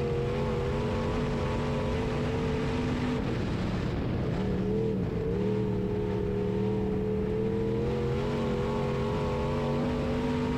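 A B Mod race car with a fresh but weak motor, compression about 100 psi per cylinder, howls steadily in-car during a race at Springfield Raceway in Missouri. The engine drone briefly dips and wavers as the throttle lifts, then settles back into a sustained roar.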